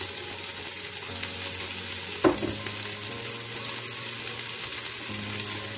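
Sliced cabbage fries in olive oil with a steady, moderate sizzle running throughout, broken by one brief clatter of a utensil partway through.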